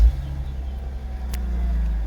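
A Mercedes R230 SL 350, a right-hand-drive car with a burnt, damaged BCM module, starts and settles into a steady low rumbling idle, close and alone.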